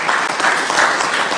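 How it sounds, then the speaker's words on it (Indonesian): Steady, dense applause from a large crowd at an Indonesian political vice-presidential announcement, filling the space evenly without pause. "Kita berikan tepuk tangan yang meriah."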